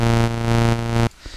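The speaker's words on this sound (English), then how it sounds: "So the volume coming in and out, that's basic sidechaining." A sidechained synth chord in FL Studio holds a bright, buzzy tone whose volume pumps down and back up in a steady rhythm, then cuts off abruptly, leaving near silence.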